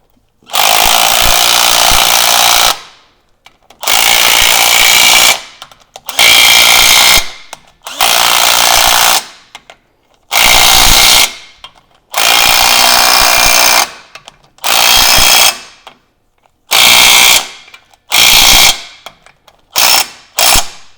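Ratchet tightening the knuckle bolts on an 80 Series Land Cruiser during a knuckle rebuild, loud and close, with bursts of rapid clicking lasting a second or two, separated by short silences.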